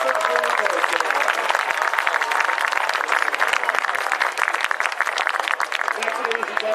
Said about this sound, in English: Let's give a nice round of applause to the Ripon Noon Kiwanis and the Ripon Early Bird Kiwanis.